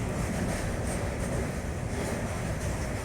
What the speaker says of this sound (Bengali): আরও এগোচ্ছে ট্রেন, আরও এগোচ্ছে